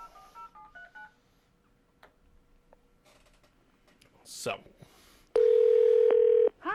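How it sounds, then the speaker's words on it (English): A telephone is dialed with a quick run of touch-tone beeps, followed by a loud, steady ring tone after a brief pause, with a voice speaking briefly. "We will call them on the phone."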